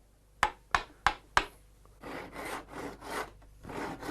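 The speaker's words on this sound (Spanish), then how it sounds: "Una vez taladrados, se tallan con el formón hasta conseguir la forma de la espiga." Four sharp mallet strikes on a chisel in steady rhythm, then a series of scraping, paring strokes shaping a tenon in a wooden rake, close and clear.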